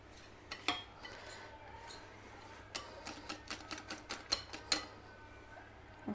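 Muffin batter made with yogurt being stirred in a bowl, heard as a quiet series of light clinks and taps from the utensil against the bowl, coming faster toward the end over a faint steady hum.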